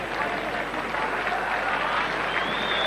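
A stadium crowd at a 1992 rugby league match between Canberra and Great Britain applauds sympathetically as an injured player is stretchered off, a steady, broad wash of clapping with a commentator talking over it.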